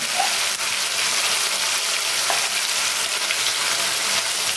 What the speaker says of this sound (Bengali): আদা রসুনের পেস্টটা দিয়ে ভালো করে মশলাটা কষিয়ে নেবেন।